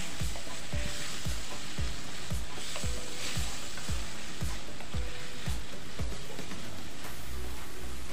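Cashews and raisins fry in a pan with a constant loud sizzle, while a utensil stirs them in regular scraping strokes roughly every half second.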